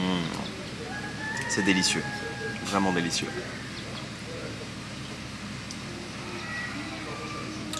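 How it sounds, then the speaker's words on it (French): Roosters crow near a meal in the Kabylie countryside of Algeria, two or three crowing calls rising over background ambience while someone talks nearby. "On entend des coqs chanter juste à côté"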